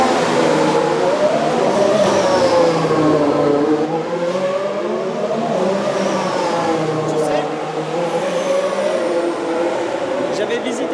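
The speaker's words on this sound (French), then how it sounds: "Regardez, les voitures elles passent juste là." Formula 1 race cars sweep past on the Monaco Grand Prix street circuit, their high-pitched engine whine rising and falling in continuous waves as cars pass close by, with voices in the background.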